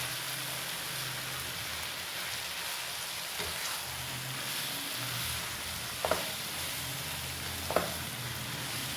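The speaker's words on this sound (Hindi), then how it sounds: "अब मैं मिक्स कर दूँगी अंडे को" Egg is stirred into rice in a hot frying pan, giving a steady soft sizzle with a few sharp scrapes of a spoon against the pan, fairly quiet and without talk.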